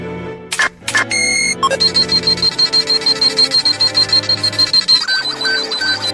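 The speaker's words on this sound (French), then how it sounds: "Il repère une alarme et demande à Shastir de l'analyser" Electronic alarm sounding inside a facility, a loud repeating high beeping tone in steady rapid pulses over a busy synthetic background, with a few rising tones at the start.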